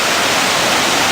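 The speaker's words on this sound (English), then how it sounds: "That's a mess of water coming down." A large waterfall above a snowmobile cabin pours down in a loud, constant roaring hiss of rushing water, close and unbroken, with no voices.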